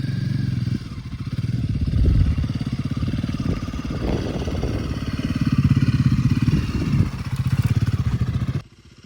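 A Royal Enfield Himalayan 450 motorcycle being ridden near a farm field, its engine giving a steady, loud, close rumble with slight rises and falls in revs. The sound cuts off abruptly at the end.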